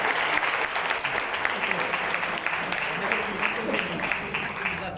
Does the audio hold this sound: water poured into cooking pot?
no